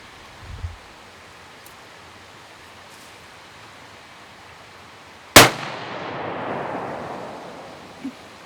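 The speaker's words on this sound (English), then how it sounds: "I'm going to shoot 3 for a group." A single sharp .223 rifle gunshot cracks out loud and close, then trails off into a long fading echo across an otherwise quiet outdoor range, with a faint thump shortly before.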